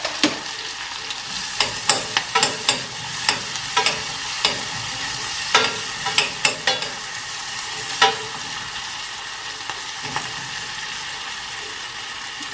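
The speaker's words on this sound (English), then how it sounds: "I don't know if you can still hear me with all the sizzling." Onions fry in a pan with a dense, steady sizzle, punctuated by irregular scraping clatters of stirring that come in bursts and then thin out, close and fairly loud, with no talking.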